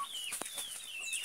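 Chickens on a rural farm cluck softly while crowded together waiting for feed, a quiet, continuous mix of overlapping calls and short clucks close by.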